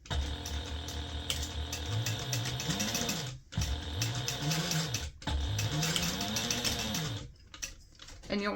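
A sewing machine stitches the boxed corners of a fabric gift bag, running in close, steady rhythmic bursts with brief pauses between seams.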